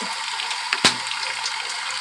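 Water pouring into a portable washing machine, a steady close splashing stream with a brief sharp splash partway through, alone.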